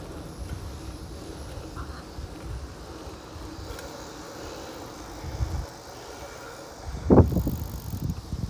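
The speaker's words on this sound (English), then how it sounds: "We don't play around when we're riding the bike." Bicycle ride outdoors between a waterpark and a tree park, with steady rolling tyre noise and wind buffeting the microphone, and a louder rattling bump near the end.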